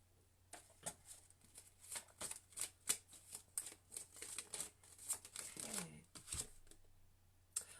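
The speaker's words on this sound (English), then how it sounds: "Shuffle a little stronger." Cards being shuffled in quick rapid bursts, a crisp riffling flutter that repeats over several seconds, close by with a low background hum.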